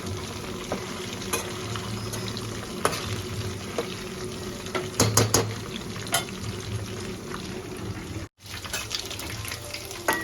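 Chicken pakodi pieces fry in hot oil for a crispy batch, a steady close sizzle with scattered pops and crackles, a few brief stirring scrapes midway, and a momentary dropout near the end before the frying resumes.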